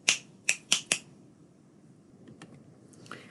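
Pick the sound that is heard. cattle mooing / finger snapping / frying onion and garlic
finger snapping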